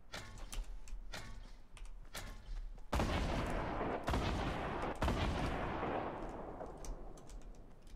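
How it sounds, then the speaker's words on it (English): Gunfire rings out in the Fortnite video game, with a burst of several loud, sharp shots around the midpoint after quieter repeated shots earlier, and the sound decays with no talking. "What is he shooting at, bro?"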